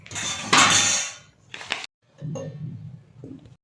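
A plate set down as a lid over a pot of cooking moth beans, giving a loud metallic clatter and scrape near the mic, then a few softer clinks and knocks of dishware.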